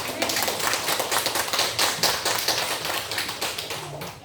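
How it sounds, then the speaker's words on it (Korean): A church congregation claps together in a quick, uneven patter, with a voice faintly present beneath the clapping. "우리 박수 한번 보냅시다"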